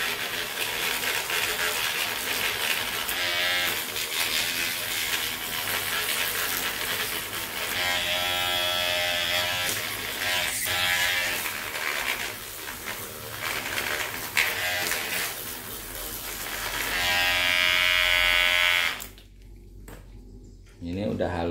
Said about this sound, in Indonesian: Jadi proses yang terakhir kita memoles gigi palsunya ya.